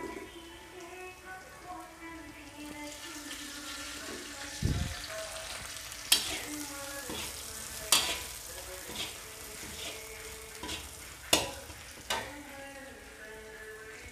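Curry leaves dropped into hot oil with fish frying in a pan, giving a steady crackling sizzle with several sharp pops and spatters standing out over the continuous frying noise.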